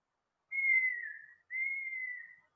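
Two long, steady whistled tones, each about a second, from a person imitating a wheezing lung sound, clean and alone in silence.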